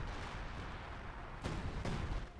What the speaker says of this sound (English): German artillery lets loose.